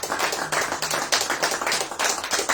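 A congregation in a church applauds together, a dense, continuous wash of many hands clapping close and loud, with no talking.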